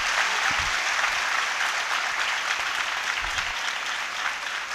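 Sustained applause for BSF soldiers at a Kargil Vijay Diwas ceremony in Sukhapar, Bhuj, many hands clapping steadily in a dense, even roar throughout.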